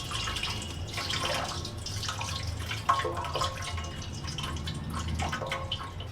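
Water drains and drips from washed poha (flattened rice) in a perforated colander in a home kitchen, a steady soft trickle with scattered drips, fairly quiet and close, with no voices.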